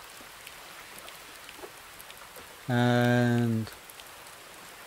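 Steady rain patters in the video game Rising World, a soft continuous hiss that runs throughout. A brief louder harmonic tone cuts in partway through, and a voice speaks faintly.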